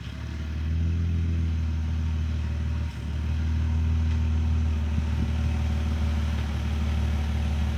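Vehicle engine starting and then idling, a steady close low rumble with a brief dip early on, heard on its own.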